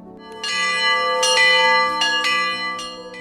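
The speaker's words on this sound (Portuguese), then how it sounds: "o sino toca anunciando o início da celebração" A church bell rings out alone on the eve of a feast in Ein Karem, near Jerusalem, with several clear, resonant strikes and long ringing overtones that overlap and hang in the air.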